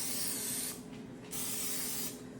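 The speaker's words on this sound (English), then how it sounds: "Now I've got just some spray canola oil. I'm going to spray these wells really well." Canola oil cooking spray hisses into the wells of a non-stick pan in two steady bursts with a brief pause between them, close and fairly quiet.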